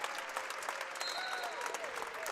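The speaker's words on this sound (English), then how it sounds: "the crowd really does come to their feet for a standing ovation at the end of this one" At a women's college basketball senior-night game at Davidson College, the crowd gives a standing ovation with steady, dense applause filling the arena. A commentator's voice runs over it.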